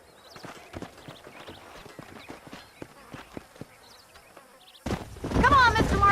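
Horse hooves clip-clop in a wild-west game setting, a quick scattered patter of light knocks under faint insect-like buzzing, with a louder burst of noise near the end.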